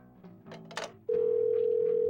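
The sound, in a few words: telephone in Parasite Eve 2 video game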